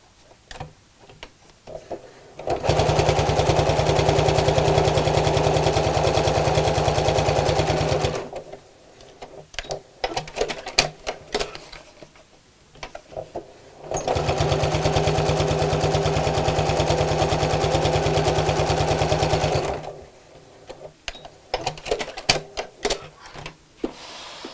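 Sewing machine stitching across the corners of kraft-tex with black thread, running in two long steady bursts of rapid needle clatter, each about five seconds, separated by quieter handling noises.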